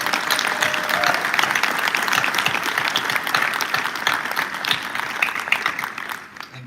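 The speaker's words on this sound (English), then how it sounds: "let's just give them a ridiculously huge round of applause for being very generous." An audience at a fintech demo competition event applauds with loud, dense, sustained clapping that continues steadily and tapers slightly at the end.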